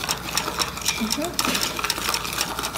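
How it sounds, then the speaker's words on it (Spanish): Dry salt and crushed chalk powder stirred together in a container for a children's coloured-salt bottle craft, giving a steady gritty scraping and rustling throughout with faint voices in the background. "Ya que tienes el gis hecho polvo, agrégale la sal. ¡Tuyo! Y revuelve, revuelve."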